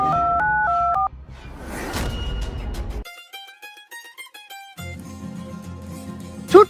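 A phone keypad sounds a run of dialing tones: short paired beeps at first, then a burst of noise, then a quick series of tone presses, followed by a low hum and a final click.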